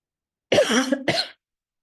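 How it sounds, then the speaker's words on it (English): A single close cough with a short second burst, sharp and throaty, standing alone in silence. "I have a little bit of a cough, so I'm sorry about that"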